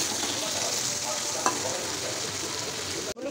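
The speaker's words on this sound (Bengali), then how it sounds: "তেলটা কিন্তু আমার গরম হয়ে গেছে দেখতেই পাচ্ছ এবার কিন্তু আমি কেটে রাখা এই আলু আর পেঁপেটা দিয়ে দেব" Cut potato and papaya fry in hot oil with a dense, steady sizzle, one brief spatula clink partway through and a sudden drop just before the end.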